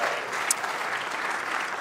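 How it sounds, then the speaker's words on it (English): Audience applause for a Rocket League team at a finals event, a steady wash of clapping from a crowd, continuous and fairly loud across the short stretch. "let's give Avant Gaming a huge round of applause"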